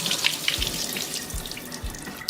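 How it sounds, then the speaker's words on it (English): Water is poured through a colander to drain rehydrated freeze-dried beef, giving a close, splashy, running stream with a few low thumps, and no voices. "I'm gonna pour that water through."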